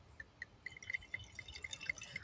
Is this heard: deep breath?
no